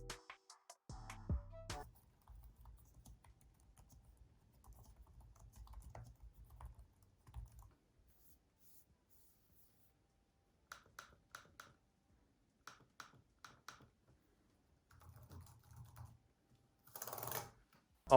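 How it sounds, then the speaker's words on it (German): Quiet, soft clicking of keys on a laptop keyboard, several close bursts of typing separated by pauses, with no talking. "dass die Tasten einen angenehmen Druckpunkt haben und dass sie beim Tippen nicht so laut sind"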